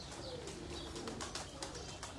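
Pigeons coo softly near a loft, low murmuring calls with faint chirps over a quiet background.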